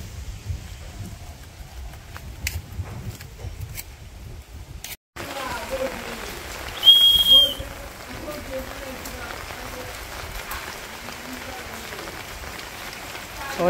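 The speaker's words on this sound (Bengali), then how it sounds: "এই বৃষ্টি পড়ছে" Steady rain patters on a surface in a village, a dense hiss that continues throughout with a faint high tone midway.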